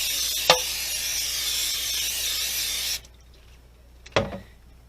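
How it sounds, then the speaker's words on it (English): A continuous hiss of non-stick cooking spray into a pan for about three seconds, then it stops, followed by a light clunk of something being set down. "You want to spray it with some non-stick spray."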